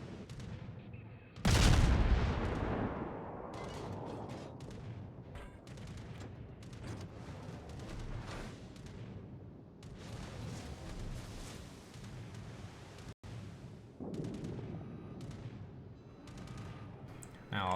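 Anti-aircraft guns of a warship firing at incoming torpedo bombers in the World of Warships video game, starting with a loud boom followed by a steady rumble of overlapping rapid gunfire and blasts across the whole stretch.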